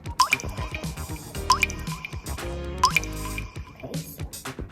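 Two teaspoons of water drip into a bowl of edible slime mix, with a few sharp wet plinks and small squishy drips spaced apart at close range.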